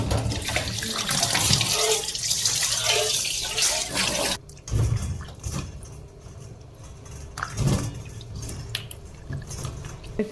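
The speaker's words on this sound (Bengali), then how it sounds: "ভালো করে আগে সারা এমনি জলে ধুয়ে তো নিলাম" Mushrooms being washed under a running kitchen tap, water gushing and splashing into a sink with shifting intensity, close and loud, with a brief pause and drips before the flow resumes.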